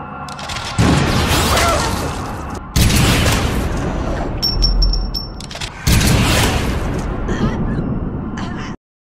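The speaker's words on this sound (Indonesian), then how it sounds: "Mendengar suara tembakan" A gunfight in a survival film, with loud bursts of gunfire and booming shots in three separate dense blocks broken by sudden short silences, and no talk over them.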